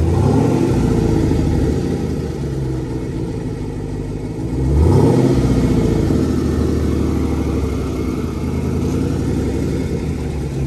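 Supercharged Jeep Trackhawk engine idling with a deep rumble, then swelling in a brief rev midway before settling back to a steady low drone.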